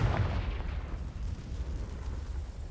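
A Confringo blasting spell explodes in the video game Hogwarts Legacy: one loud, near burst followed by a long, rolling low rumble that slowly settles, with no voices.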